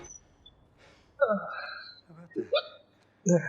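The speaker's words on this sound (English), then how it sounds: "now I got hiccups" Hiccups from a person: several sharp, abrupt gasping hiccups spaced a second or so apart, close and clear against a quiet background, mixed with a short vocal exclamation.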